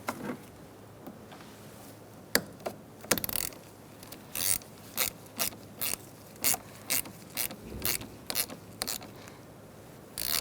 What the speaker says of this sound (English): Using a 10mm socket, we're going to tighten down the nut after we put the terminal down on the post all the way down.